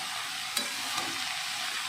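Cabbage frying in fish oil gives a steady close sizzle, with two soft scrapes as it is stirred lightly; no one speaks.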